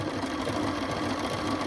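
A sewing machine stitches fabric during embroidery work, its motor whirring in a steady, close, continuous hum with a fine rhythmic chatter from the needle.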